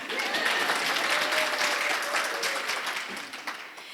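A burst of applause from an audience at a volunteer awards ceremony, dense clapping that swells and then slowly thins out toward the end.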